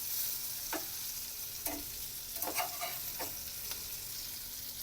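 Kothimbir vadi, coriander fritters, pan-fry in oil with a steady, close hiss throughout. Several soft clacks mark the turner as the fritters are flipped, and no one speaks.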